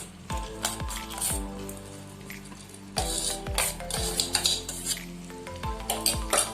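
Roasted basmati rice being stirred into vegetables in a pan for soya veg pulao, with repeated metallic spoon clanks and scrapes in an uneven rhythm over a soft sizzle, close and alone.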